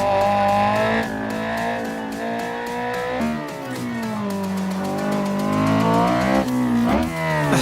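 A sports car in Assetto Corsa on a mountain touge road roars loudly up and down through the revs, with gear-change dips and squealing tires as it slides through corners.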